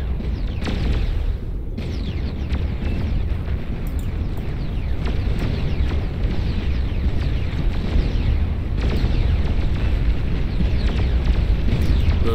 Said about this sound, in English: Those are going to finally stop chain reacting with each other and exploding.